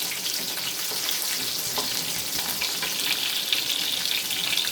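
Shallots sizzle steadily in hot oil for a curry leaf kuzhambu, giving a continuous close frying hiss with faint crackles and no talk.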